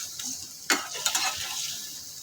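Crisply fried fish seasoned with turmeric and chili goes into a pan in a home kitchen, giving a soft background sizzle broken by a few sharp clatters and scraping stir sounds, fairly quiet overall.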